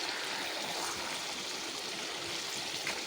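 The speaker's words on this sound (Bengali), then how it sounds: "ঝোলে টকবক করে বলক উঠে গেছে।" Meat curry gravy boils vigorously in a pot, giving a continuous dense bubbling and hissing wash, steady and close, with no talking.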